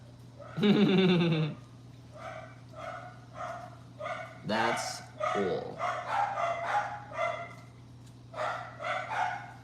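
Several dogs bark loudly in short bursts, mixed with yelps and a whiny bleat-like cry, close by over a steady hum, while a person briefly talks.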